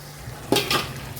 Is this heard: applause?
no